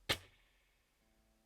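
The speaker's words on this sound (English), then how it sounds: "so you get a muted sound like this" A single short, percussive strum on guitar strings muted with the hand, a dry close click that dies away almost at once.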